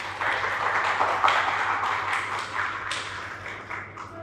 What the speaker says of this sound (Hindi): तो आप तालियों के साथ अमिता जी का स्वागत कीजिए